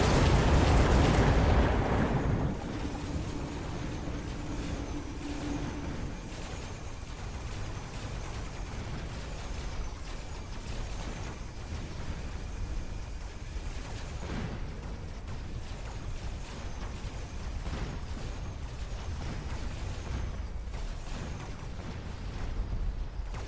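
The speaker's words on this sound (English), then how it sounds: "Oh, there's the AA barrage." A video game anti-aircraft barrage rumbles as dense, continuous popping and thudding bursts, opening with a loud heavy blast before settling into a steady crackling roar.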